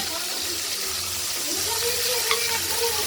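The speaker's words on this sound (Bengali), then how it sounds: "মাছগুলোকে একবার নেড়ে চেড়ে নেব।" Prawns sizzle steadily while being stirred and fried in a wok with ground spices, with close scraping and stirring over the constant frying hiss and a voice talking in the background.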